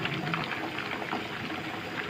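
A pot of water with sweet corn bubbling at a steady rolling boil, dense continuous gurgling and hissing heard up close with no voices.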